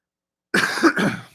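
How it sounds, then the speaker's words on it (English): A single close, loud cough from a man with a sore throat, two harsh bursts in quick succession then fading out. "Sorry, I keep coughing."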